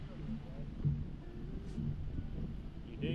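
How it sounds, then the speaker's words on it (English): A strong wind buffets the microphone on a fishing boat out on the water, a steady low roar with a faint voice beneath it. "this wind is brutal"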